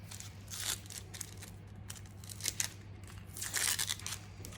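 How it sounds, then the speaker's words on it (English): Dry papery onion skin being peeled away by hand, giving soft crinkling and tearing rustles in short bursts, close and fairly quiet over a steady low hum. "peel the onion or skin away"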